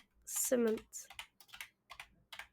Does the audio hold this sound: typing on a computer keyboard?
yes